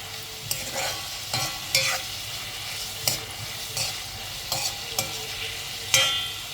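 Brussels sprouts and asparagus frying in a pan and being stirred: a constant close sizzle with a spatula scraping and knocking against the pan about once a second, with no voices.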